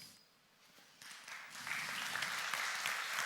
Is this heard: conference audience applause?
yes